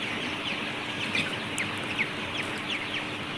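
Sonali hybrid chickens on a poultry farm give faint, scattered clucks over a steady background hiss, with no talking.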